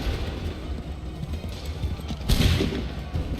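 A gunfire volley in the video game Assassin's Creed III: a sharp, fairly loud burst of massed shots cracks out midway through a low, rumbling battle din.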